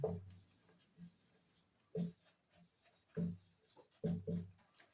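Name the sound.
writing a CO2 laser diagram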